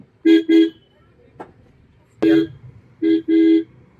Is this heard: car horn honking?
yes